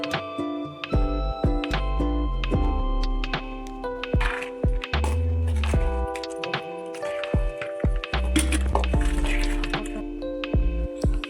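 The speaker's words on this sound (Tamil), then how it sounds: "கேஸை ஆஃப் செய்து தோல் நீக்கிய நிலக்கடலை போட்டு நன்றாக கலக்கிவிடவும்" Peeled peanuts being stirred into hot jaggery syrup in a pan, giving close, irregular sticky squelches and soft clinks of a spoon against metal, continuous throughout with no voices.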